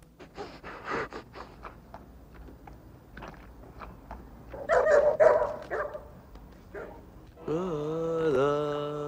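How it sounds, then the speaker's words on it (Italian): A dog barks, pants and chews nearby in scattered bursts, with a louder yelp and whine-like tones near the end. "Vorrei sapere che cavolo hai da abbaiare"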